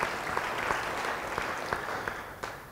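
A church congregation claps together in a steady burst of applause, a dense patter of many hands with a few sharper claps standing out, moderately close and without talk.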